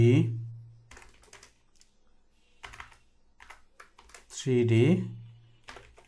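A computer keyboard clicks in short bursts of typing while someone talks over it, the keystrokes light and close, coming in scattered runs between his phrases.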